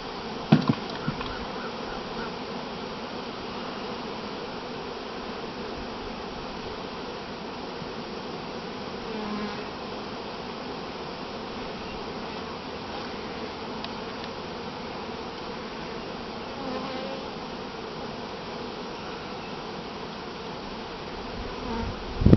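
Honeybees around an open hive hum in a steady, dense buzz that holds for over twenty seconds, close and continuous, with a few faint knocks and rustles and no talking.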